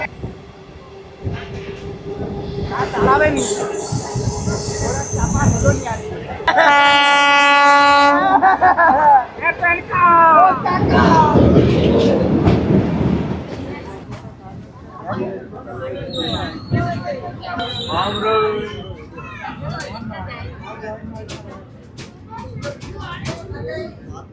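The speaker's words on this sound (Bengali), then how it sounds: "বড় গোপীনাথপুর স্টেশন থেকে ট্রেন ছেড়ে দিল, আর ট্রেন ছাড়তে এক্সিলেশনটা দেখো।" Train 68096 on the Bankura–Jayrambati line pulling out of Bara Gopinathpur station and picking up speed: loud rumble and rising engine drone, a long horn blast near the start, then clattering wheels under occasional talk.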